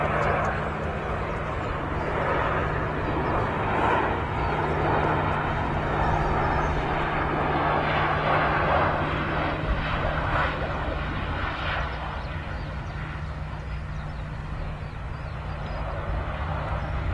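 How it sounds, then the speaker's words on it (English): A Ryanair airliner touches down at Manchester Airport, its engines a broad, sustained roar with a steady low hum beneath, fairly near and constant throughout. "Nice easy touchdown there from the Ryanair"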